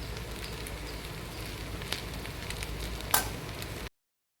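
Pulivogare rice is stirred in a pan with cashews and peanuts fried in oil, giving a steady low sizzle and soft scraping throughout, with one brief sharper clink near the end.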